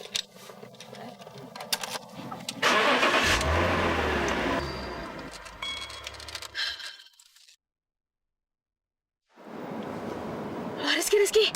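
A sports car engine starting up and idling with a low mechanical drone, close by, while people talk over it before a brief silence.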